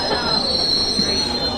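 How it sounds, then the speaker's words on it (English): A London Underground District line train grinds along with a sustained high metallic wheel squeal over a rumbling carriage, close and loud throughout. "This is a district line train to King Reg."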